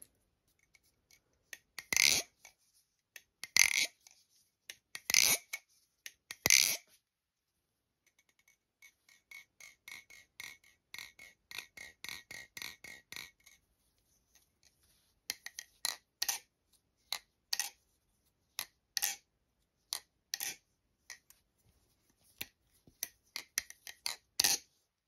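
Hourglass tanto-blade balisong on a Baliplus replicant handle being flipped: bursts of sharp metallic clicks and clacks in quick rhythmic runs, with pauses between sequences, close and alone.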